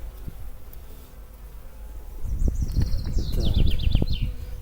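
Honeybees being moved from a package into a hive buzz in a swelling drone that grows louder halfway through, with a few wooden knocks and chirping birds nearby.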